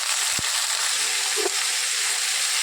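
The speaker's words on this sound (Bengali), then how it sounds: "এবার একটু নাড়াচাড়া করে নিই।" Food fries in a pan while being stirred, with a constant sizzling hiss and one or two soft knocks of the spoon against the pan, heard close up with no talking.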